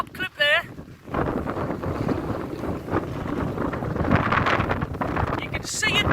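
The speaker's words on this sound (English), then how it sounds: "Wind's changed direction, it's hitting it straight on there." Strong gusts of wind, up to 65 km/h on Hownam Law, batter an Olpro Voyager tent, a loud roaring rumble with fabric flapping, starting after a short whistle-like burst and continuing steadily.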